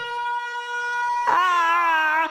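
A cartoon Siren Head blares a loud, steady siren with a rich harmonic tone that jumps to a higher, harsher wail midway through and holds there, with nothing else heard.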